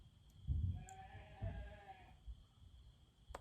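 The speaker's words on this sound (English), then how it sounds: "heard the cow. I think she's hungry." A hungry cow on a hay farm gives a single drawn-out moo, near and fairly loud, with a faint click or two around it and no talk.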